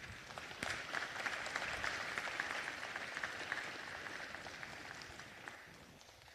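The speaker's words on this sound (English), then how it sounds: "give them a round of applause for being part of AYSO's all-star team" Applause at a city council meeting for members of a youth soccer all-star team, a steady broadband patter of many hands held at moderate, even volume for several seconds before easing slightly.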